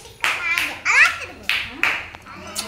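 Children clapping in short bursts during an anganwadi preschool activity in Pithapuram, four or five quick rounds of small hands, with children's voices and chatter in between.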